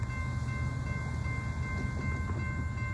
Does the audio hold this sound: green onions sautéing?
no